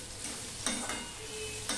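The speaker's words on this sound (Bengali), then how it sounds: "আলু মজে গেছে আর পেঁয়াজটাও ভাজা ভাজা হয়ে গেছে" Potatoes and onion frying together in a pan: a soft, steady sizzle with a few sharp scraping stirs of a spatula at irregular moments, close and fairly quiet, no speech.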